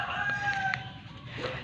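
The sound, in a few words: chicken rooster crowing on farm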